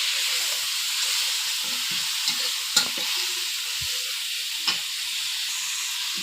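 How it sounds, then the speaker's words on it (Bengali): Onion paste frying in a little oil while being stirred, a steady bright hiss of sizzling with occasional soft scrapes and knocks of the spoon against the pan. "প্রথমে পেঁয়াজ বাটা দিয়ে দিয়েছি, একটুখানি তেলে নেব। জলটা টানা পর্যন্ত এটাকে আমি নাড়তে থাকবো"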